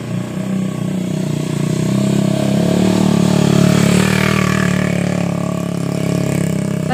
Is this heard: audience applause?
no